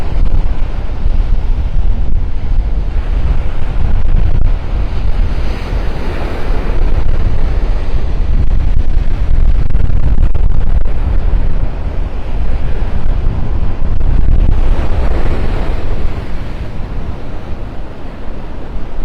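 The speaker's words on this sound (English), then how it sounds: "That's Mother Nature. And she's blowing up a storm this morning." Strong wind buffets the microphone over surf rolling onto the beach at Delnor-Wiggins in North Naples during a stormy morning, a loud continuous roar with surging swells and no talk.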